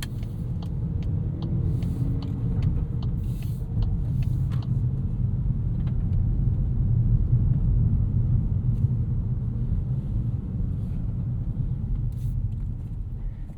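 A 2024 Volkswagen Golf R six-speed manual hatchback cruising in comfort mode, heard from inside as a steady low road and engine rumble with a faint tick or two and no voices.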